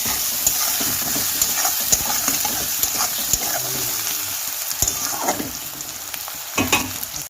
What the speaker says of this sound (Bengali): এবার পেঁয়াজ রসুনগুলো ভেজে মশলা দিয়ে